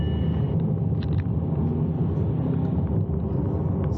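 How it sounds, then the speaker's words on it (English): A Corvette C8 drives along a public road, its engine and exhaust a dense, steady low rumble heard from inside the cabin, with no talking. "I just think this car sounds so good."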